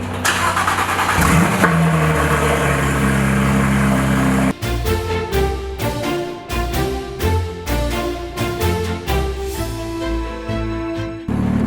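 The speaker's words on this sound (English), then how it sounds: "this car does have an aftermarket exhaust on it, and it's quite loud" A Porsche GT3 RS with a loud aftermarket exhaust revs hard, opening with a sustained, dense roar for several seconds that then breaks into a quick string of sharp, choppy pulses, close and forceful.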